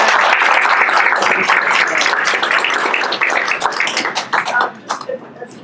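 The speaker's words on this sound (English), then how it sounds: "I would like to just send some loud applause his way" Loud audience applause at a community association meeting, a dense wash of many hands clapping that thins out into scattered claps near the end.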